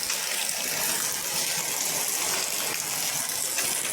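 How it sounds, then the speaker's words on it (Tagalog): Heavy typhoon rain from Typhoon Opong pours down steadily, a dense, loud hiss of water drumming without a break. "lakas na ulan"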